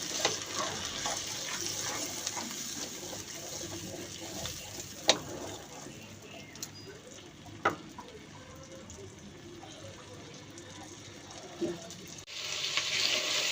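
Dried chili and garlic paste masala frying in a pan with no water added, a low continuous sizzle broken by a couple of sharp spatula knocks, faint and steady throughout.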